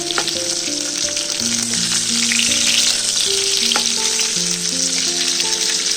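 Dahi potol, pointed gourd cooked in yogurt, fries in a pan with a steady close sizzle and crackle throughout, while music plays underneath.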